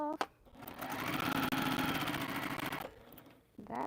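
A sewing machine runs a steady straight seam through quilt pieces, a close, even whirring hum that lasts about two and a half seconds, with brief voice sounds just before and after.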